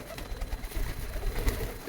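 Soft, low cooing of pigeons repeats through the clip, murmuring and close by, with no talking over it.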